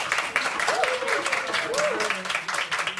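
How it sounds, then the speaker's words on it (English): A small student club audience at its final meeting of the year gives Mr. Collins a round of applause, with moderate clapping and a couple of rising whoops, and voices murmur underneath. "please give him a round of applause"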